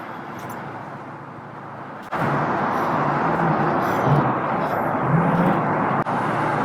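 A 1937 Ford street rod accelerates northbound on a freeway, its engine drone and road roar rising to a loud, steady level after a brief quieter stretch, with no talking.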